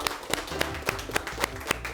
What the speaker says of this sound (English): A round of applause for the Perrywood team.